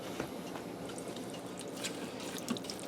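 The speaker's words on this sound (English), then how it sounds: "Give that a stir" Spoon stirring chunky cream of broccoli soup inside an Instant Pot, a soft, wet, continuous swishing with faint liquid sloshing and a couple of small spoon knocks against the pot, quiet and close.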